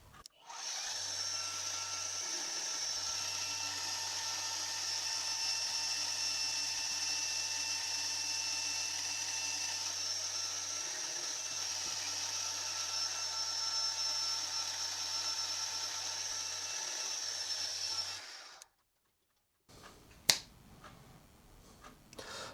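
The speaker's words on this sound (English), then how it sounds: "So the next task is to drill and tap these 3 holes." A bench drill bores and taps three holes in a Quorn Mk3 tool grinder base casting, the machine whirring steadily and loudly for about eighteen seconds with a low motor hum before stopping, followed by a sharp click.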